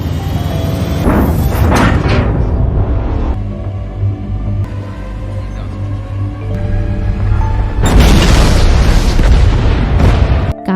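An explosion at a nuclear power plant in a film produces a massive booming blast with deep rumbling, followed by sustained roaring debris and a second loud eruption near the end.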